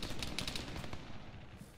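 Rapid automatic gunfire bursts in a capture-the-flag multiplayer shooter match, several quick volleys in the first second over a steady noisy game background, then tapering off.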